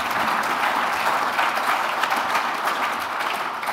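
Audience at an architecture talk in a German event series breaks into sustained applause, a dense, even patter of many hands clapping close by throughout.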